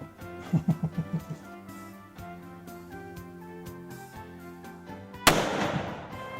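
A rifle shot during opening weekend of hunting season in Texas: one loud, sharp blast near the end, over background music with a few earlier percussive thumps.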